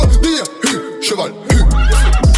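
A horse neighs loudly and close, a shrill whinny with a tremolo, repeated in bursts.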